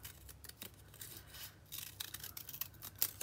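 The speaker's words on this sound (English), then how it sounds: "I'm actually just going to cut the lining of the ear" Scissors snip through printed paper to trim an ear lining for a zoo-animal scrapbook piece, a quick series of close, soft crisp cuts and rustles with brief pauses between them.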